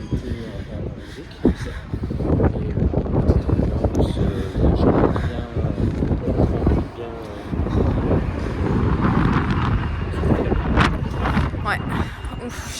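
Heavy gusting wind buffets the microphone in low rumbling bursts while people talk over it outdoors by the River Thames in London in December.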